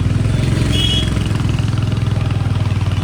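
A motorcycle engine drones steadily and loudly up close while riding through Nainital, with a rapid, even pulse and no pause through the short stretch.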